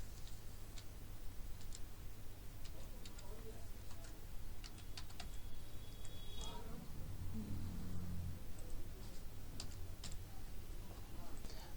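Fingers type a PAN number on a computer keyboard while filling in an online portal form, giving faint, scattered key clicks in short bursts against a quiet background hum.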